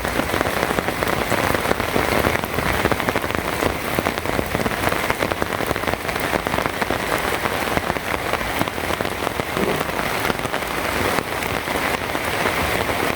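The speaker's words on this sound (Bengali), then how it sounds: "মানে বাতাস উঠতেছে সাথে বৃষ্টি।" Rain falls steadily in a village during a windy storm, a dense, even patter on surfaces that continues unbroken throughout, close and moderately loud.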